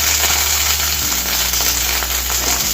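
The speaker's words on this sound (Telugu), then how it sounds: "కరివేపాకు కొంచెం మనకు ఫ్రై అవ్వాలి" Garlic and curry leaves fry in hot oil with a steady, dense sizzle throughout, joined by a low constant hum underneath and a few faint clicks.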